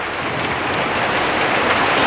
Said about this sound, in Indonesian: hujan es, ukurannya kecil kayak kerikil gitu gimana, warnanya bening transparan